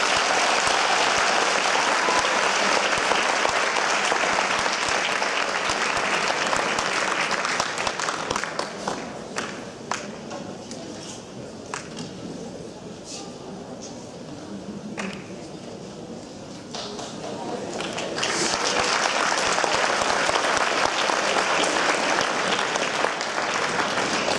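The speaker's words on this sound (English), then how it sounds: "So give yourselves a round of applause." A crowd applauds continuously at a school Founder's Day ceremony, a dense wash of clapping that thins out midway and then swells again, loud and sustained.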